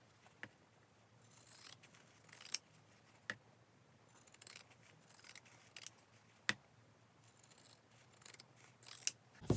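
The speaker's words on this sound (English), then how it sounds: "I'm going to use pinking shears" Pinking shears trimming the edges of sewn fabric coasters, giving a series of crisp, separate snips at irregular intervals with quieter rustling of fabric between cuts, close up and alone.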